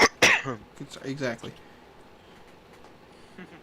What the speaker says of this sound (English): Pretty sure that was a cough, not a sneeze